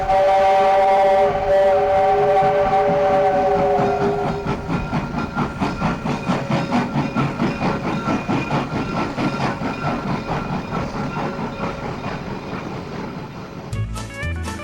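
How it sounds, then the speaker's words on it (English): A southbound train crosses Lay's Flats into Warsaw on the Sedalia & Warsaw line in the late 1930s, heard as a loud, steady rolling rumble with rhythmic wheel clatter and sustained whistle-like tones that fade after the opening seconds. "we see a southbound train crossing Lay's Flats and entering Warsaw"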